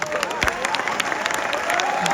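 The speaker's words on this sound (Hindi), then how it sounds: "एक बार तालियां फोटोग्राफर के लिए भी बजा दीजिए।" Crowd applause at a college cultural night with poetry recital, dense clapping from an outdoor audience with faint cheering and background tones mixed in.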